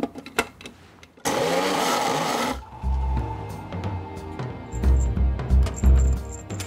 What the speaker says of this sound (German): Und das passiert erstmal hier in einem ganz normalen Mixer.